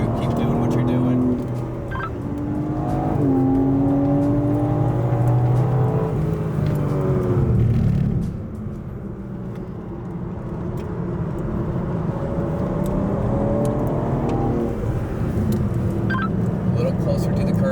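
GT4 race car engine on a racetrack, a loud in-car drone that rises and falls as the throttle is squeezed and released, with an instructor talking over it throughout.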